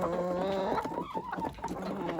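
A hen clucks repeatedly in short, broken bursts, fairly close, over a steady background hum, on a farmstead.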